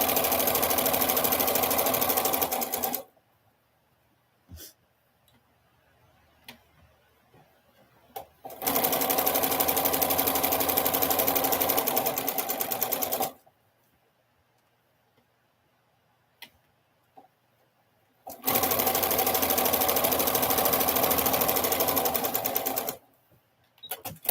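Sewing machine chain piecing quilt pieces, three loud bursts of fast, even stitching, each several seconds long, separated by near-silent pauses with small clicks.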